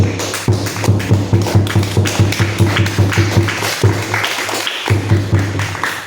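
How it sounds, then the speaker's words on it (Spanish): A church congregation claps in a fast, steady rhythm, loud and continuous, with a low droning tone underneath and a short break near the middle. "Vamos a dar un aplauso a nuestro Señor Jesucristo, al Rey de Reyes."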